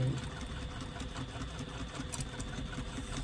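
Sewing machine stitching straight across clutch lining pieces at a 3/8-inch seam allowance, a continuous, even mechanical whir with no pauses, fairly quiet and close.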